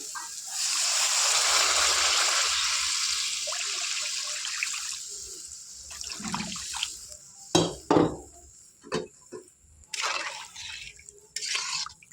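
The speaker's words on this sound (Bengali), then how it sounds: "এবারে যে নারকেলের দুধটা দিয়ে দেবো।" Coconut milk is poured into a pan in a steady stream for several seconds, then a few clinks and light handling noises follow.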